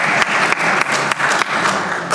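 Congregation gives a round of applause, dense steady clapping filling the whole stretch, loud and close with brief dips.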